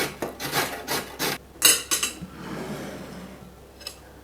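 Carrots are rubbed against a metal grater in a home kitchen salad preparation, giving several quick rasping strokes in a steady rhythm, close and fairly loud, followed by a few softer scrapes and a faint clink.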